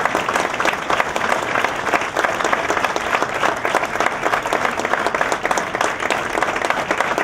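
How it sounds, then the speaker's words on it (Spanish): A theatre audience breaks into loud, sustained applause to welcome a female singer at a Spanish Legion cuplé show, dense clapping holding steady throughout. "la vamos a recibir con un fuerte aplauso"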